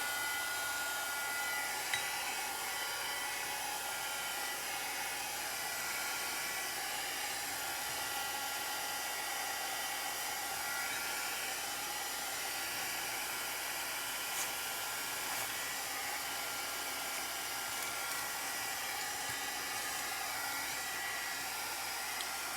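A loud heat gun blows steadily during a craft project refreshing an old canvas, a constant broad airy roar with no breaks and no talking.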